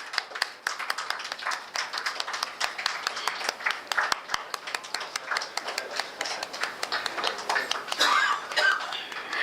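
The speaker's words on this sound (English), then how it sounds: "A huge round of applause for the team from P. Chandrasekhar LLP." Indian audience at a stock listing ceremony for Emmvee Photovoltaic Power Limited claps in scattered, uneven bursts that continue for several seconds, moderately near, with some voices murmuring underneath.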